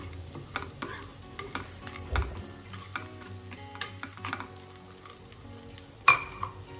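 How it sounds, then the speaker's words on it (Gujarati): Roasted gram and chutney ingredients being stirred in a pan, giving soft scattered scraping and tapping strokes at a low level, with one sharper clink near the end. "ત્યાર પછી હવે આપણે થોડા દાળિયા એડ કરીશું અને આ બધી વસ્તુને આપણે એકદમ સરસ રીતે મિક્સ કરી દઈશું"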